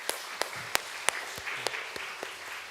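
Church congregation applauding for the youth group during a Sunday worship service, scattered claps with distinct sharp hits over a steady moderate patter, fairly distant.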